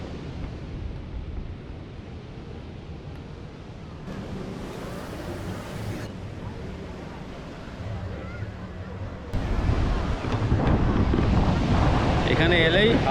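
Surf at Kovalam Beach in Kerala with strong currents rolls as a steady broadband wash, buffeted by wind on the microphone, rising louder near the end, with speech over it at times.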